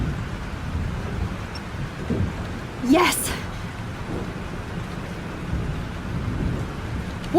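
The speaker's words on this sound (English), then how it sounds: "This storm is real." A steady, loud rain-filled thunderstorm in the video game Life Is Strange, with a sharp rising crack of thunder midway over constant rain noise, and a brief shout from a voice.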